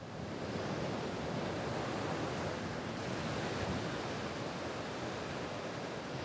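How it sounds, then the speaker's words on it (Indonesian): Waves on a wide, beautiful beach at Pantai Balu, a soft, steady, even wash of surf heard from a distance, with light wind and no voices. "Aku bersama Sulaiman mandi di pantai yang luas dan indah sekali."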